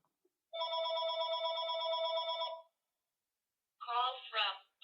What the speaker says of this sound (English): Gotta wait for the stupid phone.